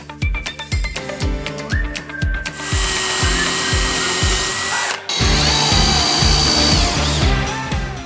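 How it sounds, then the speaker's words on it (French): A Parkside power drill drives screws into a wooden shelf of a balcony bar, with loud close whirring bursts: a stuttering series of short pulses, a sustained run, a brief stop, then another steady run. "Je peux maintenant visser l'arrière de la tablette centrale."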